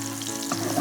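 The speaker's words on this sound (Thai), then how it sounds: "ทอดเสร็จแล้วก็กลับด้าน" Meatballs for spaghetti sizzle steadily in a hot pan, a close, even frying hiss with a few soft stirring bumps near the end as they are rolled over.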